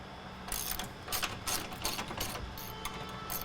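Ratchet with a 15 mm socket backing out a fuel tank strap bolt on a 1999-2010 Ford F250/F350 crew cab, rapid close clicking of the pawl in several quick strokes.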